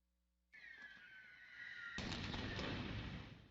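Gunfire and explosions used against a crowd of protesters in Russian-held Energodar, heard from a distance as a sharp whistling tone that abruptly gives way to a broad, rumbling blast, which lingers and slowly fades.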